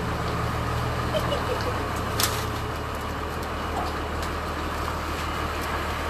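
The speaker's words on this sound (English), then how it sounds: "Our FedEx guy is here, so you can listen to his truck." A FedEx delivery truck idles outside, a faint steady low engine drone with a light click or two, heard from indoors.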